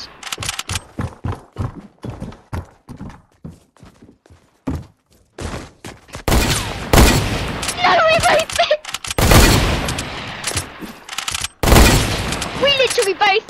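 Gunfire from the video game Fortnite comes as rapid clusters of sharp shots, first quick single bursts and then heavier overlapping volleys, loud and close under excited talk from players.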